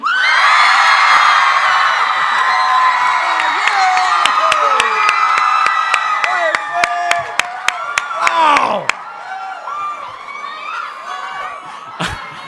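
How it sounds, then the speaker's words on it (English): A packed comic con panel crowd for a TV series erupts in loud, sustained high-pitched screaming and cheering, with whoops and scattered claps, fading out toward the end. "I kind of forgot how loud screams can be."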